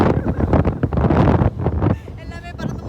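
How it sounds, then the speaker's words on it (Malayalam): Strong wind gusting at the Ramakkalmedu hilltop buffets the microphone with a rough, continuous roar, while voices talk over it throughout. "കാറ്റ് കാരണം ഞാൻ പറന്നു പോകും ഗൈസ്"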